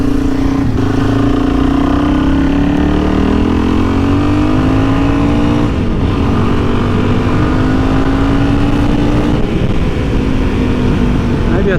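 Suzuki DRZ400E dirt bike fitted with a Lectron Billetron Pro carburetor, revving and accelerating through third gear while riding, a loud continuous engine drone rising in pitch, easing and climbing again amid heavy wind noise.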